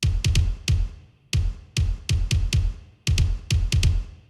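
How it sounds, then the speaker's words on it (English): Kick drum bus blending triggered samples with natural kick mics, heard as punchy kick hits in quick rhythmic groups of repeated thumps, loud and dry with no talk. "I'm going to show you how I have blended those triggered samples with the natural kicks for the"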